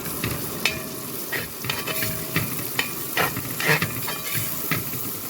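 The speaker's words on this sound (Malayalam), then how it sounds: "നൂറ് ഗ്രാം വെളുത്തുള്ളി ഇതുപോലെ ചെറിയതായി തന്നെ കട്ട് ചെയ്താണ് ഇതൊന്ന് നല്ല പോലെ ഒന്ന് മൂപ്പിച്ചെടുക്കാം" Finely chopped garlic fries in hot oil with a steady sizzle, broken by clinks and scrapes of stirring at irregular moments, close up and with no talking.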